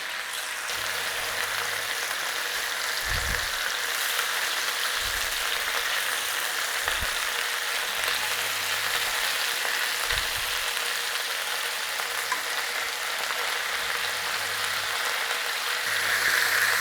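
Chicken pieces frying in a pan, turned onto their sides to cook through, give a loud, steady, dense sizzle that holds without a break, with a few faint low knocks underneath.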